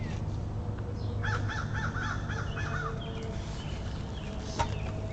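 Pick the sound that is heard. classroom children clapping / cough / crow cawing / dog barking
crow cawing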